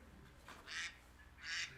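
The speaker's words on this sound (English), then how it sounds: "I heard a duck there for a sec." A duck gives two short, faint quacks about a second apart, at a distance during a lively event show, with no talking over them.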